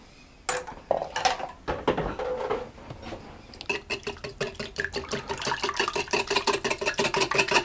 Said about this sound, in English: and the apple cider, and I'm going to whisk those together.